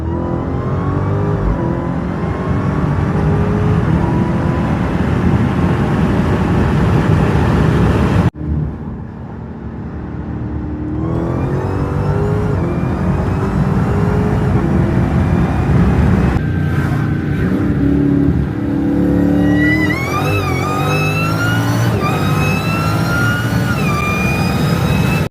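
A Dodge Demon with a max-effort ported Kong 2650 supercharger on a small pulley running E85, loud and close, with repeated revving and accelerating passes, rising whine sweeps and one abrupt gear-change break partway through.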